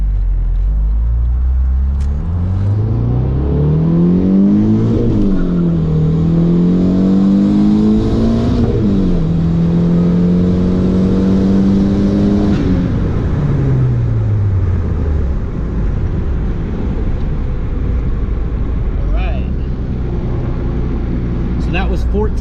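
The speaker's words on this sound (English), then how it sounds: "So this is a pull on that stock engine." Turbocharged stock Honda D16Y7 car with a GT30 turbo at 14 psi boost pulls hard through the gears, engine revving up in rising sweeps with shifts around five and nine seconds, loud and close before settling to idle.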